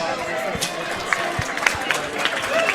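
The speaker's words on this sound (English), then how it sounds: "Ladies and gentlemen, a big round of applause, please, for both of the fighters in this cage." A crowd around a WXC mixed martial arts cage applauds and cheers for both fighters after a bout, a dense wash of clapping and crowd noise with voices mixed in.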